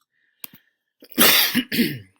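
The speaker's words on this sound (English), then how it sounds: "Sorry, I didn't mean to cough." A couple of small throat sounds, then two harsh, loud coughs in quick succession, close up.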